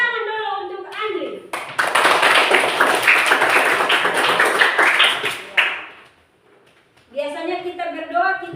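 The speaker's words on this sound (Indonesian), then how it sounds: "Ya, kita tepuk tangan dulu untuk Andri." A group claps together in a classroom prayer gathering, a dense burst of hand claps lasting about four seconds, loud and close, with a voice speaking before and after.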